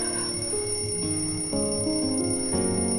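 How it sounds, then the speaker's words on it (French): A bedside alarm reminding someone to take a pill, a bright electronic melody of repeating beeping tones in a steady pattern, loud and close, with no talking. "c'est l'alarme pour mon comprimé"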